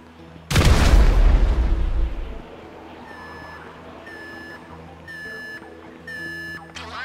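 A loud, booming explosion in Grand Theft Auto V bursts at once and rumbles off over about two seconds, followed by repeated electronic beeps.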